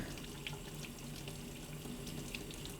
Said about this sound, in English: when the water's flowing good, it's just kind of shooting right over